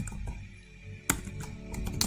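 Quiet clicking of keys on a computer keyboard while typing, with a couple of sharper key strikes standing out amid soft background hum.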